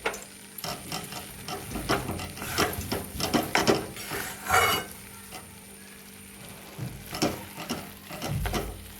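Maida roasting in ghee in a pan is stirred and scraped with quick rhythmic strokes, a near, gritty clatter over a soft sizzle, pausing briefly midway before resuming.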